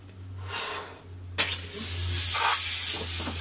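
Air hisses steadily into a rubber balloon being inflated halfway, a close, loud rushing that starts suddenly after a short quieter stretch and carries on to the end.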